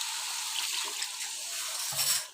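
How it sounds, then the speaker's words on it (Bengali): Water is poured into frying lentils for dal bhuna, a continuous close splashing and hissing pour with a brief low bubbling near the end. "এখন আমি জলটা দিয়ে দিলাম"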